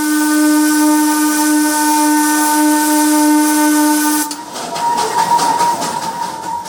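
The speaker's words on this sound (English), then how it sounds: "The clanking of the wheels and the loud puffing of the funnel" A Darjeeling steam train blasts a loud, sustained steam whistle for about four seconds, then cuts off into rhythmic, hissing chuffs from the funnel, close and without voices.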